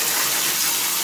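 Tap water pours steadily over sushi rice in a strainer being rinsed, a loud, close, continuous gushing rush with no talk.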